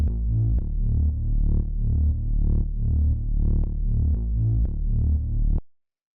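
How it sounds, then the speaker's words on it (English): A deep synth bass plays a rhythmic line of repeated low notes, smooth and warm, alone before cutting off abruptly. "So this is just a pretty straightforward bass."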